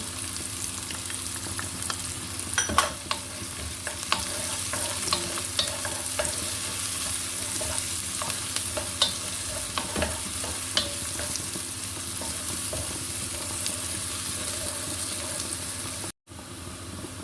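Garlic, onion and ginger sauté in a pan with a steady close sizzle, punctuated by repeated stirring scrapes and clinks throughout.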